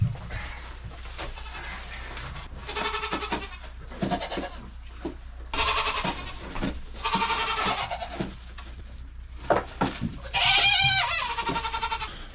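Several goats in a stall bleat loudly in repeated, wavering calls over a low steady hum, with scattered shuffling between cries and a little talk.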